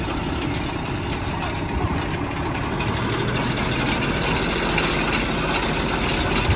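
ATV engine running at light throttle outdoors, a steady low rumbling drone held at an even level throughout, close and fairly loud with no clear talking.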